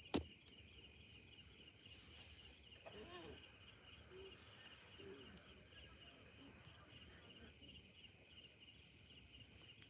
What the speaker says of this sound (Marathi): रातकिड्यांचा आवाज येतोय